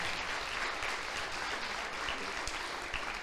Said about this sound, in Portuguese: Aplaudo o Senhor por isso.